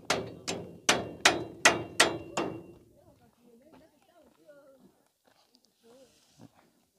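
At a road-paving site, a rock drill breaks up stone in about seven sharp, evenly spaced percussive blows over a couple of seconds, then stops, leaving faint scattered voices and small noises.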